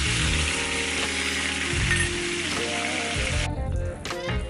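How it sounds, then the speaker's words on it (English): Pork chops brown in a hot pan with a dense, continuous sizzle, close and fairly loud, crackling steadily with small shifts as the meat is moved, and no one speaking. "let me finish browning these up"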